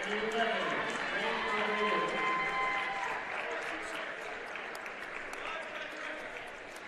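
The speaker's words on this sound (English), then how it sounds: "Nick Romeo, gets his applause, well-deserved." Crowd applause at a college men's basketball game for a senior player leaving the floor, sustained clapping in an arena while a commentator talks over it.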